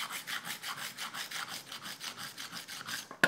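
A knife blade rolled back and forth against a 200-grit diamond disc on a Hone rolling knife sharpener, about a dozen even rasping strokes in a steady rhythm, close and alone, ending with a sharp knock.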